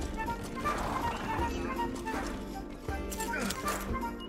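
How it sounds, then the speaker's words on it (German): Horse hooves clip-clopping in a Western-themed video game, a soft repeated rhythmic patter beneath steady game sounds while someone talks over it. "Haben wir ein Pferd."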